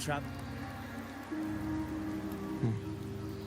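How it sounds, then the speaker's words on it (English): Rain patters steadily in the video game Wuthering Waves, a soft wash of drops beneath a speaking voice and tonal game sounds. "The rains in Septimon never seem eager to leave this season."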